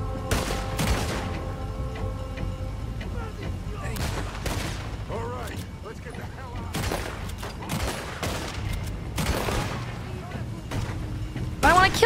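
Pistol shots ring out in Red Dead Redemption 2, a loud irregular series of cracks at close range within game noise, with someone talking between some of the shots.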